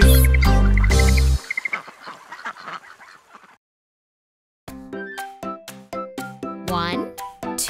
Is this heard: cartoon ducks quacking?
yes